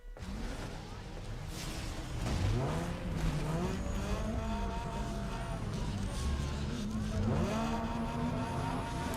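Car drifting through a downhill drift event in Need for Speed: Underground 2 on PS2, a loud steady engine roar with rising and falling revs and tire squeal sweeping throughout, a voice talking over it.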